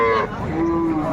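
A dairy cow lets out a single close, drawn-out moo at a busy cattle market, loud and tonal and filling the whole brief moment.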